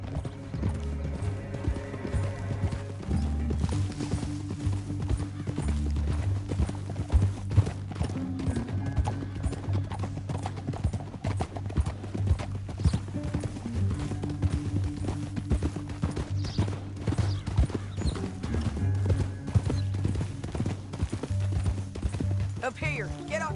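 Rapid hoofbeats of a galloping horse in Red Dead Redemption 2 pound on continuously beneath a low droning musical backdrop, with occasional mechanical clinks and rattles mixed in.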